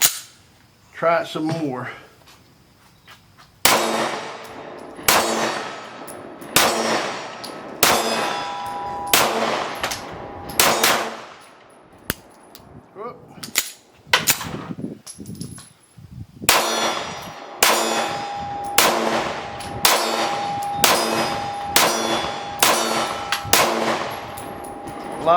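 Repeated sharp metallic clangs of a SIG Sauer M11A1 9mm pistol's shots hitting steel targets, fired in irregular bursts with pauses between strings, loud and close, with brief talk in one gap.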